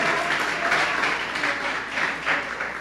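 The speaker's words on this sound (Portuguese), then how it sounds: "Dá uma salva de palmas ao Senhor," A church congregation applauds during a service, a warm, fairly loud wash of clapping that swells and eases over a few seconds.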